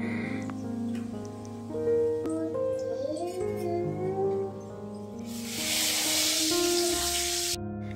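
Crab frying in oil with onion and chili, a steady sizzle that swells louder and brighter near the end, heard over tonal background sounds.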